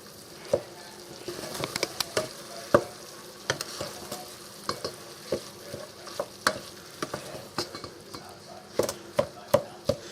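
A spoon stirs salt into hamburger stroganoff in a pan, with steady scraping and a run of sharp clinks and taps against the pan over a low sizzle, close and without talk.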